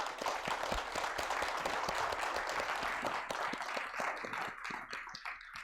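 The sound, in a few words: audience applause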